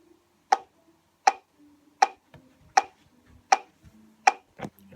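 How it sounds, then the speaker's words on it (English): Steady metronome clicks set up for snare drum practice, sharp and evenly spaced at about one tick every three-quarters of a second, heard alone at close range with faint background noise between beats. "Now I'm going to get my metronome ready"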